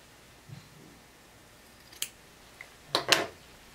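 Sewing scissors clip the corner of a graded seam while attaching a lining, with a couple of faint snips followed by two louder, sharp close cuts near the end.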